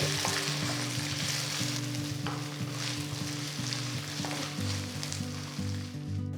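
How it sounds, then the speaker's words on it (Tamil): Ginger garlic paste frying with sautéed onions in a pan: a loud, continuous sizzle with a stirring spoon scraping now and then. "வெங்காயம் வதங்கினதும் ஒரு டீஸ்பூன் இஞ்சி பூண்டு விழுது சேர்த்து கலந்து விட்டு"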